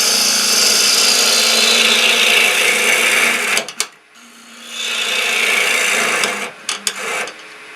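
A bowl gouge cuts into spinning wood on a lathe, a steady, close scraping rasp that breaks off briefly with a few clicks, then resumes and stops again.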